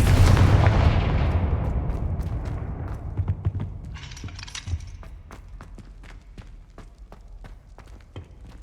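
Blasting-curse explosions in the Hogwarts Legacy video game open with a loud, heavy boom that rumbles away. A long rattle of sharp cracks and debris clatter follows and gradually fades.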